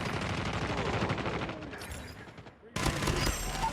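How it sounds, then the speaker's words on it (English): An automated sentry gun fires in the Call of Duty Mobile map Shipment 1944, a rapid stream of game gunfire that thins out briefly, then returns loud and dense in a sudden burst. "Sentry gun deployed."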